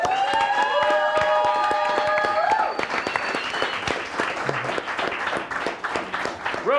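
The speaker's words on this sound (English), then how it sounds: "a round of applause for our champions" A crowd at a fantasy game-show ceremony breaks into loud, sustained applause and clapping, with a few musical tones ringing out at first before the clapping carries on alone.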